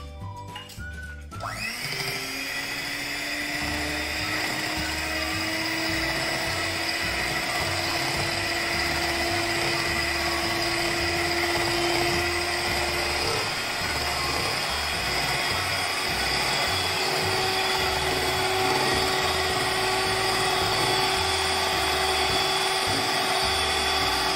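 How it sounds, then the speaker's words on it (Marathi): An electric hand beater whips half a cup of cream, starting with a click and then holding a steady, loud, high motor whine for over twenty seconds without pause, no voices. "बीटरने आपण क्रीम तयार करून घेऊया"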